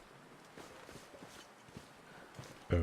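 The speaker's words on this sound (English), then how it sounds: "Oh, it's the tires of the tractor." Soft crunching, rolling texture of tractor tires moving over ground in the survival game The Long Dark, a series of faint irregular thuds and rustles, ending with a louder low burst.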